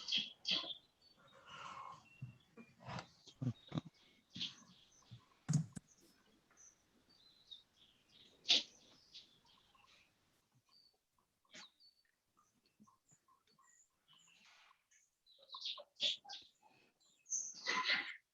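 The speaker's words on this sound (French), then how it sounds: "C'est chez toi qu'il y a des petits oiseaux, Olivier?" Small birds chirp faintly in the background of a remote group video call, with scattered short tweets and clicks spread across a mostly quiet stretch.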